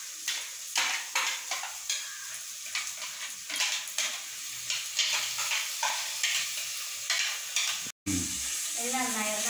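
Chopped tomatoes stirred as they fry in a pan for crab roast, with a steady sizzle and regular scraping of a spoon against the metal, cut by a brief dropout near the end.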